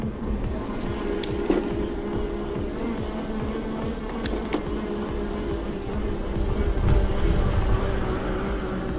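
Hiboy P7 electric scooter climbing a steep hill in climbing gear at level 5, a steady motor whine mixed with wind and road rumble, with occasional clicks and knocks from the ride.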